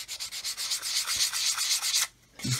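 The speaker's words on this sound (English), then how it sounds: "take our sanding stick." A sanding stick rubs back and forth in quick, steady strokes on the marked back edge of a buff build, a dry scratchy rasp that runs continuously, pauses briefly, then resumes.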